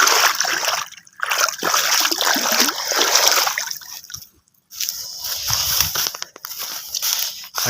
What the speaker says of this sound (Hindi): गन्ना धो लिया